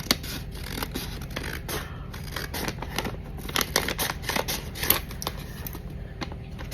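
Scissors cutting paper for a junk journal, a close series of crisp snips and rustles in an irregular rhythm, with handling scrapes between cuts.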